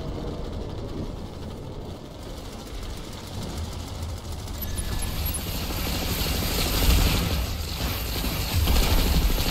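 Ops cam in an Outfit Wars grand final video game match, a steady whirring, helicopter-like engine drone with mechanical clatter, growing louder and busier toward the end, with no talking.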